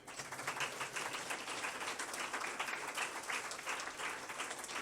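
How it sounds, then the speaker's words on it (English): Applause from an audience at an international conference, a continuous, evenly sustained crackle of many hands clapping, fairly quiet and distant in a large hall. "Give a big applause."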